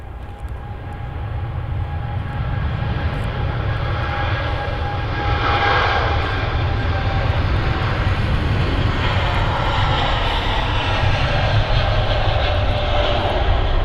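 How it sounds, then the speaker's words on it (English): A TUI Boeing Dreamliner departs Manchester Airport, its engine roar building steadily and swelling louder over the whole stretch, one continuous powerful rumble with no voices. "Beautiful view there. The TUI Dreamliner"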